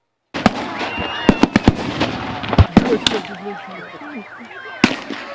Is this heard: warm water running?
no